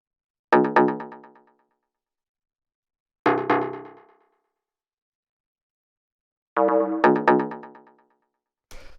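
Layered FM bass stabs all playing C in a driving techno track hit as bright, harmonically rich chords, two single stabs, then a quick double, each ringing and fading into silence.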